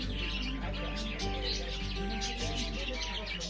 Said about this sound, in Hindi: मेरे पीछे ही खाचा है जिसमें कई तरह की चिड़िया दिखाई दे रही है।